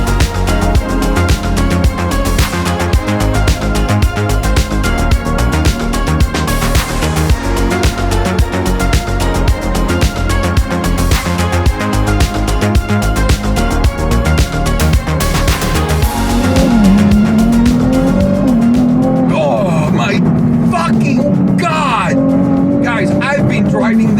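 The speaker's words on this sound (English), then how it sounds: "It sounds incredible. This is a fucking V6 car." A Ferrari V6 sports car engine drones loudly and steadily while driving, with a gritty, pulsing exhaust note throughout, then the revs rise and fall near the end as the pace changes.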